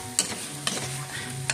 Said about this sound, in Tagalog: So, haluin natin mga kaguro.